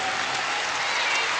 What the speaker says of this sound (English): You hear the crowd supporting her